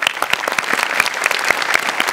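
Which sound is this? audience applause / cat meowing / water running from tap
audience applause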